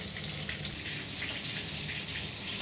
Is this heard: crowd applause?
no